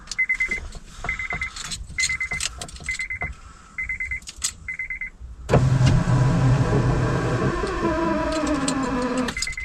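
Honda car windows operated by holding the key fob button, heard as repeated short electronic beeps followed by the sustained whir of a power window motor running, close by and alone.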